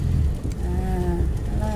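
A manual car's engine rumbles low and steady as a learner driver releases the clutch and presses the accelerator, the engine tone climbing gently against close wind noise.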